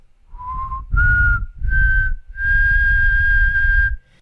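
A person whistles in imitation of a folktale ghost: four sustained rising notes, the last held longest, loud and close with short breaths between.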